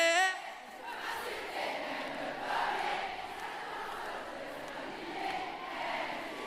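Concert arena crowd at a show cheering and shouting in a sustained roar, steady and loud throughout, with scattered whistles and a brief tonal note at the start.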